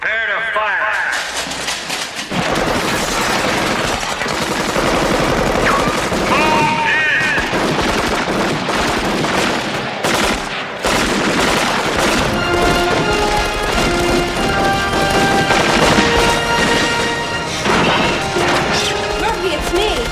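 Gunfire in a RoboCop movie scene: dense bursts of machine-gun fire and crashing impacts over a loud action soundtrack, with voices and music throughout.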